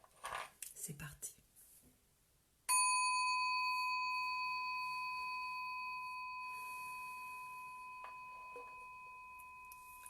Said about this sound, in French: on va en appeler au gong.